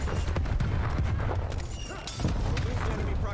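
Rapid gunfire and blasts from War Machine grenade launcher rounds in Black Ops Cold War, dense and continuous with repeated sharp impacts over a constant roar of game combat.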